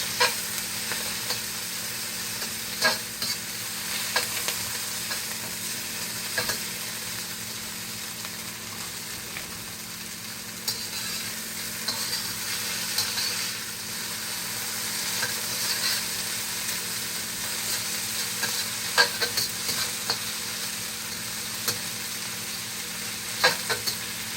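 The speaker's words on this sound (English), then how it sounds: "and then I'm going to cook my shrimp." Shrimp fry in a hot pan for Yangchow fried rice, giving a steady, close hiss and sizzle broken by occasional scrapes and clicks of stirring.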